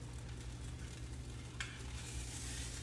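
A tortilla dipped in liquid sizzles steadily in a hot pan, a close, even hiss of moderate loudness with a brief sharper crackle partway through and no talking.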